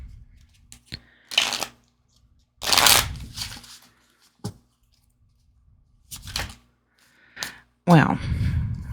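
Pocket-size tarot cards shuffled by hand in short, separate bursts of riffling and flicking with pauses between, close and soft, and a person talks in between.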